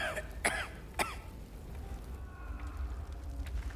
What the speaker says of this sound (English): Do not tell me you're just going to cough.